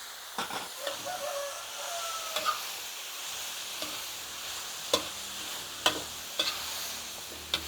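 Vegetables and sun-dried pork stir-fried in a pan, a steady low sizzle broken by sharp clacks of the utensil against the pan, close and fairly quiet with no talk.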